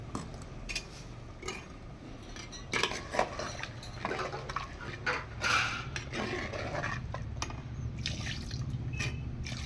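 Tamarind water is poured into a pan of masala for a fish curry, with soft splashing and trickling broken by a few clinks of a utensil against the vessel, close and fairly quiet.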